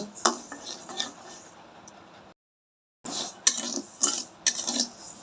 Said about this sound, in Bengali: চালগুলো আমি ভালো করে লাল লাল করে ভেজে নিব